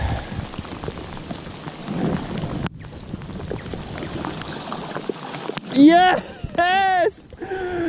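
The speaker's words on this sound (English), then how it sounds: "It's raining" Steady rain patters on a surface throughout while fly fishing in New Zealand, a soft constant hiss, with an excited voice and whistling breaking in near the end.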